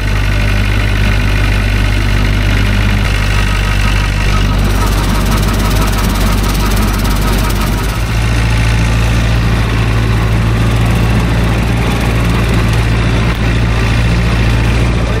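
A loud tractor engine drones steadily at close range while mowing, with a deep rumble and mechanical whine, dipping briefly midway before resuming at full power.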